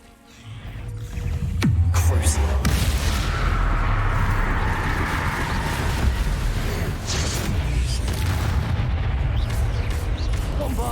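A blasting spell explodes in the Hogwarts Legacy video game, setting off a loud, sustained roar of booming bursts and crackling debris that rumbles on for several seconds.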